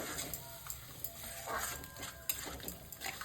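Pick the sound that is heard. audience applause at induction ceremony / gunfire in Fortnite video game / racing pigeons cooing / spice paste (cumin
spice paste (cumin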